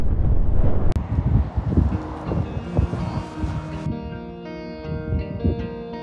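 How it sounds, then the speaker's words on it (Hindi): Strong gusting wind on a mountain road near Leh buffets the microphone with loud rumbling bursts that ease off toward the end, where a faint steady tonal hum remains. "इतनी तेज़ हवा है"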